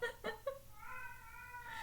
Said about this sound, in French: j'ai mon chat qui parle.